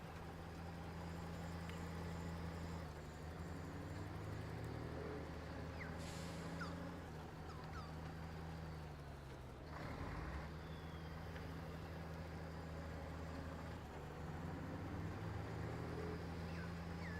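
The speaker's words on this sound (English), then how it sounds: "Truck also sounds a little bit better with a bigger engine in it." A heavy truck engine, upgraded to a bigger engine in the video game SnowRunner, drones steadily at low pitch throughout, with a brief shift around the middle, no voices present.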